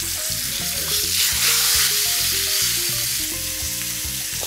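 Steak sears in a hot oiled pan, a loud continuous sizzle and crackle with some stirring and scraping, close up and with no talk.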